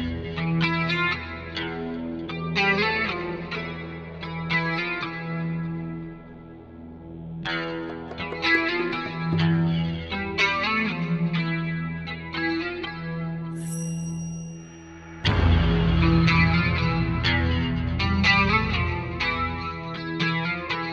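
A distorted, effects-laden metal guitar plays a riff in E Phrygian, repeating in rhythmic phrases. After a short pause, a heavier, louder section crashes in and carries on to the end.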